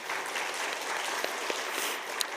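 A church congregation at a Friday worship service applauds the nursery department teachers, a brief, even burst of clapping heard alone from start to finish.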